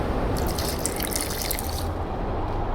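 Water poured into an alchemy mixture in The Witcher 2, a steady trickling splash like a running tap that lasts under two seconds over a low constant background hum.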